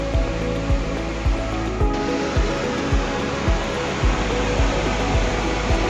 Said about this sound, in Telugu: ఈ వాటర్ 1640 అడుగుల ఎత్తు నుండి కిందకు పడుతుందంట